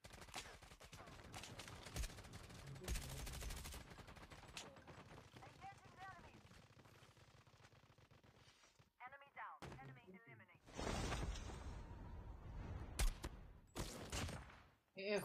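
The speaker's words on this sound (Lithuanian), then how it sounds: "kas čia šaudo" Gunfire in a Call of Duty tournament match, with scattered bursts of rapid shots and sharper volleys later, fairly quiet overall and mixed with players talking.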